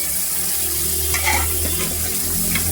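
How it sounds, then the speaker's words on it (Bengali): Pieces of fresh Padma river fish are added one after another into spice paste frying in a pan, giving a steady close sizzle with soft stirring and faint watery clatter throughout. "একে একে মাছ দিয়ে দেওয়া হচ্ছে সেই কষানো মশলার ভেতরে"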